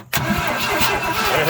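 A 1964 Ford F100 pickup's starter cranks the engine in a rapid rhythmic churn right after a brief silence, loud and close, with a voice over it.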